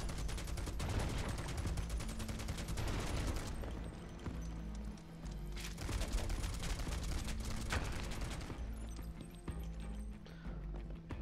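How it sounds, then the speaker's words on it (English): Gunfire aimed at rocks in the video game Final Fantasy VII Rebirth: rapid bursts of shots in two loud clusters, each lasting a few seconds, separated by a brief lull, with fainter game sounds trailing at the end. "Shooting rocks with a gun"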